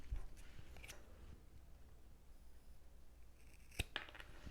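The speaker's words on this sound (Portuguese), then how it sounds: "aqui você pode vir com uma tesoura e cortar" Scissors snipping thread on a synthetic handbag, a few soft crisp clicks spread out over a quiet background, with two sharper snips near the end.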